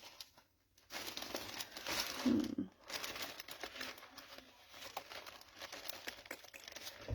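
Paper being handled and crinkled while a scrapbook layout is put together, with close, irregular rustling and crumpling bursts that pause briefly and then resume.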